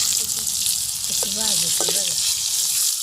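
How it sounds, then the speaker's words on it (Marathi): Stuffed bell peppers roasting in a pan produce a steady, close, loud hiss and sizzle throughout, with a brief voice-like tone in the middle. "असं छान भाजून घ्यायचं बघा"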